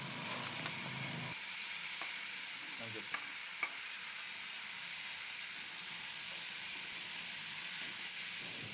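Vegetables frying in a pan with salt before tomato is added, a steady bright sizzle and hiss close up, with a few faint clicks of stirring.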